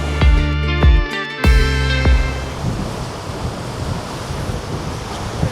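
Surf washes against the rocky shore of Vagator Beach in Goa as a continuous wash of waves with wind buffeting the microphone, after a few brief ringing tonal notes at the very start.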